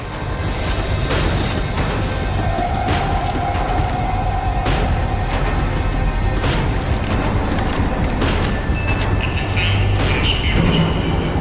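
A tram in the video game Max Payne 3 rumbles steadily on its rails as it slows, loud and close, with metallic wheel squeals and occasional clanks over a constant low roar, no talk.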